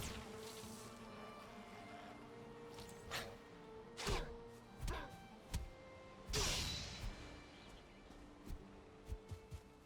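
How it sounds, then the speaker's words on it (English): Bees drone continuously in the CoCoCo video game, a soft, steady buzz broken by occasional sharper clicks and thumps. "Ooh, more bees."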